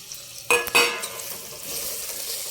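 Sliced onions and slit green chillies frying in a pan, a couple of sharp clattering utensil strokes up front, then a steady close sizzle hissing on alone.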